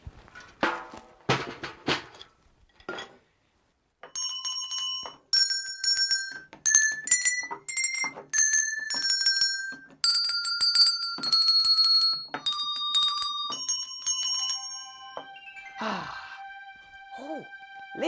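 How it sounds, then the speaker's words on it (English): Bells ring out one after another in a bright, tonal sequence, each strike sustaining and overlapping, after a few quick percussive taps at the start. "I also found some bells."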